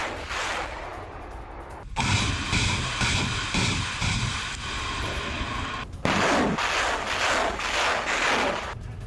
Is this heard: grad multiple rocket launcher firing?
yes